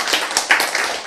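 A brief burst of audience clapping at a health lecture, loud and close. Scattered hands come in unevenly over about a second.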